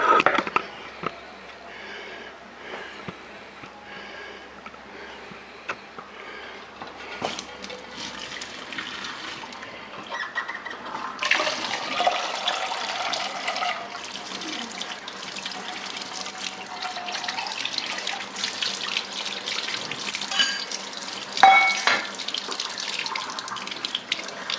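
Tap water runs into a kitchen sink to cool a boiled egg, a soft trickle at first that swells into a louder, steady gushing stream.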